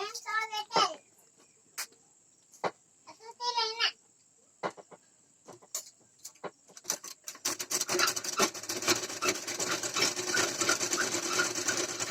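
A sewing machine stitches a blouse back neck design, starting with short stop-and-start bursts between pauses as corners are turned, then running in a fast continuous whir, close up.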